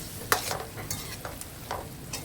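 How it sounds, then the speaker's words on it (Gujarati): Prawns fry in hot oil while being stirred, a close, soft sizzle broken by several sharp scraping stirs in the pan. "પહેલાં ઝીંગાને પકાવી લઈશું તેલમાં"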